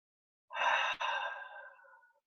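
A single slow, deep breath, drawn in and let out audibly as a long, soft sigh close to the listener, with nothing else around it.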